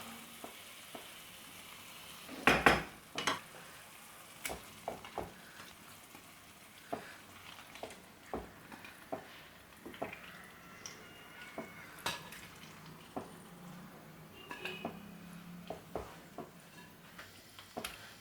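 Chicken pieces fry in masala in a pan while being stirred, a continuous soft sizzle broken by frequent sharp scrapes and clacks of a spoon against the pan.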